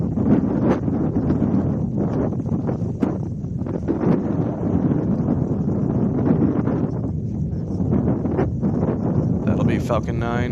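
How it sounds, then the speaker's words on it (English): Strong ground wind buffeting an outdoor microphone at a Falcon 9 rocket launch site, a loud continuous rumbling roar with gusty bursts, steady across the whole stretch with no clear voices. "You could hear how much ground winds were today on our audio"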